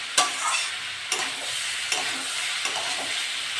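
Papaya being fried and stirred with a little sugar, a strong, even sizzle punctuated by four distinct scraping strokes of a spatula in the pan, close and with no voices.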